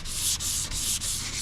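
Hand sanding a car hood with 320 grit paper during bodywork dent repair, close rhythmic back-and-forth rasping strokes, about five steady passes with brief breaks between them, loud and alone.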